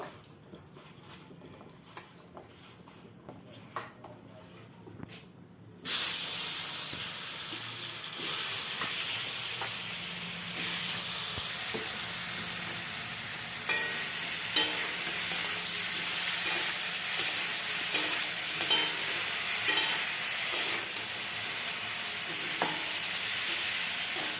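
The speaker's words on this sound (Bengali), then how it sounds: "কাঁচা কলা ভাজা করে নিব হলুদ আর লবণ মেখে ভাজা করে নেব" Raw banana pieces coated in turmeric and salt fry in a pan, a dense continuous sizzle that starts abruptly and holds steady, punctuated by occasional crackles and spatula touches, close and fairly loud, no speech.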